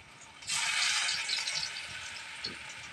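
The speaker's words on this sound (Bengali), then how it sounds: "তেলটা গরম হয়ে গেছে, তাই তেলের মধ্যে বড়াগুলো ছেড়ে দেবো।" Ivy gourd fritters dropped into hot oil in a village kitchen, a bright sizzling hiss surging in after a quiet start and holding steady, close and alone with no talk.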